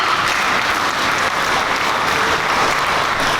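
Applause from mourners gathered at a celebration of life, a loud, close, continuous rush of many hands clapping without pause.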